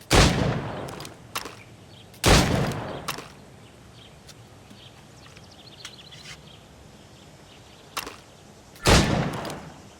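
Gunshots from target practice in the video game Assassin's Creed Rogue: several sharp single reports spaced a few seconds apart, loud and close, each with a short decaying tail over quiet game ambience.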